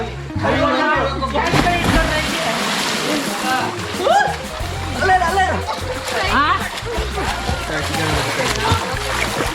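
Water splashes repeatedly as people swim in an old stone-built village well, with sloshing and bursts of spray under excited shouting and talk, plus low thumps echoing off the well walls.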